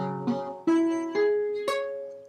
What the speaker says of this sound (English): you see how there's buzzing and some of the strings aren't really coming out?